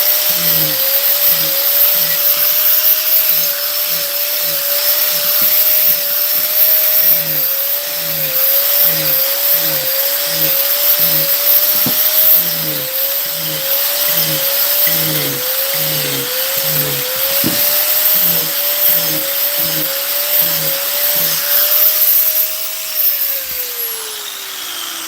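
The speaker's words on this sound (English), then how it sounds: "I'm done with the grinder for just a few minutes." Dremel rotary grinder carving wood during a live woodcarving demonstration: a steady high-pitched motor whine with rapid pulsing grinding bursts as the bit bites in, loud and close throughout before winding down near the end.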